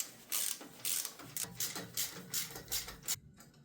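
A crank on a vintage Peugeot Iseran Mixte bicycle is turned by hand, giving a quiet, close, rhythmic run of ratcheting clicks in about eight regular bursts before stopping.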